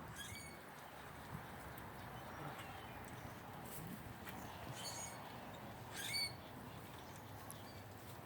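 Big robins and many other birds call from a neighbor's backyard after a heavy rainstorm, with faint, distant chirps and squawks scattered sparsely over a quiet, hissy outdoor background.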